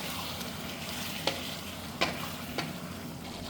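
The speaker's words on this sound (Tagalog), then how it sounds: "Ayan, imikos-mikos natin." Squid adobo with oyster sauce being stirred in a frying pan, a steady sizzle under a few soft scraping clicks of the utensil against the pan.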